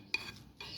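Barbecue salad ingredients, with beans, get stirred together in a bowl: a few soft clinks and scrapes of utensil against dish, faint and brief, with no talking.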